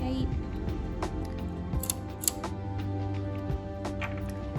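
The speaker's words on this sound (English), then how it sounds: "So I'm just cutting up these ends and reusing the yarn" Scissors snip loose yarn ends during machine knitting, producing a series of small, crisp close-up clicks over a steady background hum.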